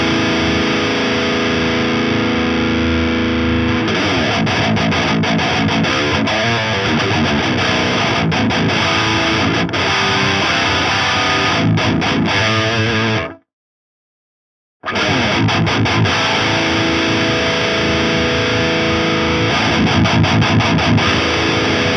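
Distorted electric guitar played through the lead channel of the Audio Assault Amp Locker amp simulator in a metal demo, loud continuous riffing with palm-muted chugs and sustained notes, a brief silent gap near the middle.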